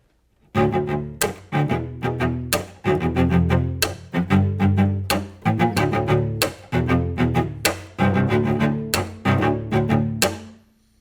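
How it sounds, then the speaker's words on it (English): Percussive cello chopping, sharp scratchy bow hits on the strings alternating with short chords, making a driving, drum-like rhythmic groove, loud and close. "One of my favorite sounds is a technique called chopping."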